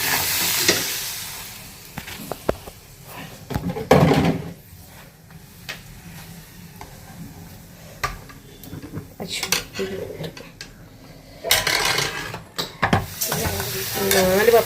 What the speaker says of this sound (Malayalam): ഇങ്ങനെ പപ്പടം പൊരിക്കുകയാണ്